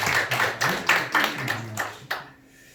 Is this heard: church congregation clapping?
yes